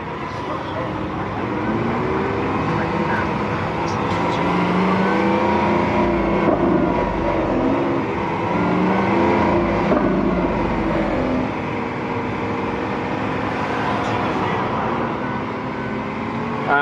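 A Lamborghini Aventador SVJ driving in traffic, its engine and exhaust a continuous, low, rumbling drone that swells and eases gently, with someone talking over it at times.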